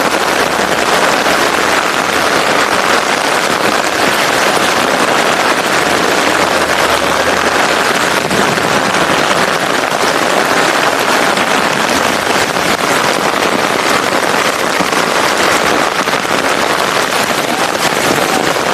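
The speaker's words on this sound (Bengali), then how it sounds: "প্রচুর বৃষ্টি হচ্ছে, এজন্য পানি কমার কোনো সম্ভাবনাই নাই।" Heavy rain falls during a flood in Khulna, Bangladesh: a dense, loud, unbroken hiss runs through the whole stretch with no voices.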